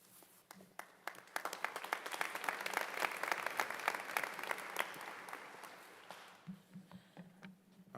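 An audience at a university commencement ceremony breaks into applause that swells over the first seconds, holds as dense sustained clapping, then thins to scattered claps before a voice begins at a podium.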